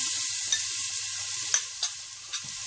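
Two tablespoons of crushed garlic fry in a quarter cup of hot oil left from frying chicken, making a steady bright hiss with a few sharp pops and taps close by.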